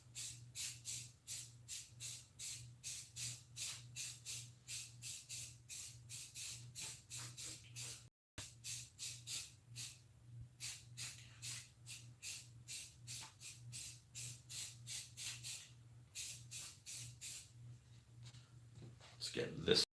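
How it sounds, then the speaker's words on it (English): Spray paint can held upside down to clear the tip while working on a Krampus mask, many short rhythmic hissing bursts in quick succession over a low steady hum, with one brief pause. "When you're done spraying spray paint, spray it upside down a couple times."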